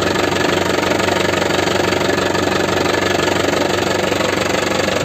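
A 2012 Isuzu Panther LS Turbo diesel engine idles steadily and loudly up close, a constant knocking rumble with no variation in speed.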